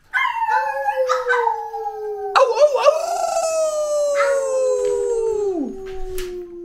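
Several people take turns imitating a wolf howl with long, rising and falling wavering cries, some overlapping, loud and close, and one voice briefly exclaims between them.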